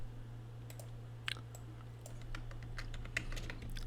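Computer keyboard typing in quick irregular clicks and taps, fairly faint over a steady low electrical hum, with no talking.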